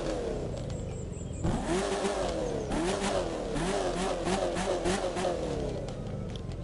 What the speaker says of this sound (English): Engine noise.